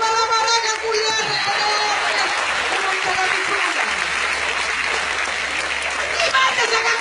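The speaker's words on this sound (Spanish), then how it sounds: "Un aplauso para la maraca culiana." An audience at a comedy show claps and cheers loudly amid crowd chatter and a voice speaking over the noise, the applause sustained and close.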